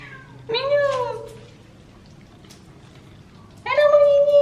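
A house cat meowing from behind a closed door, two clear, fairly loud meows separated by a quiet pause of a few seconds.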